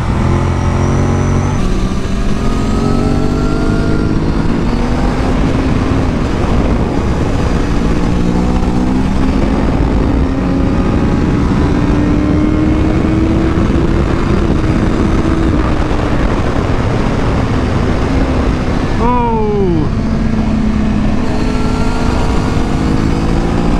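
A 1990s superbike engine on a race track, a loud continuous roar rising and falling through the gears with a sharp pitch swoop near the end, close and alone with no talking.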